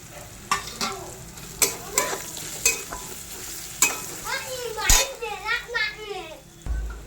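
Ground red chilli and turmeric frying with onion, tomato, ginger and garlic, a steady close sizzle broken by repeated sharp scraping stirs, with children's voices chattering in the background.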